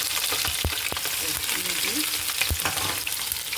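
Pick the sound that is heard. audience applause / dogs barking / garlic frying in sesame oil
garlic frying in sesame oil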